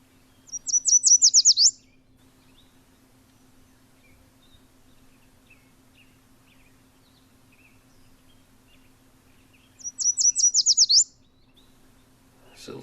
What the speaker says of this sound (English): we're going to have tons and tons of yellow warblers, like this little fella. And you will hear lots and lots of this in the meadows.